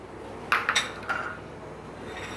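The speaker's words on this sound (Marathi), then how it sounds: "आता मी इथे मिक्सरचं भांडं घेतलं आहे" A mixer jar is lifted and set back down on a kitchen counter while a banana oats smoothie is being made: a few close, sharp clinks and knocks in quick succession, then one softer knock, with no talking.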